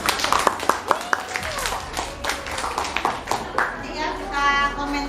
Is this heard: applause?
yes